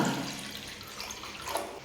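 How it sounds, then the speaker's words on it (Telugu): About one and a half glasses of water are poured into a kadai on a stove while chegodilu are being made, a close, steady splashing gush that tapers off slightly, with no voices. "కడాయిలో ఒకటిన్నర గ్లాస్ వరకు అయితే నీళ్లు వేస్తున్నా"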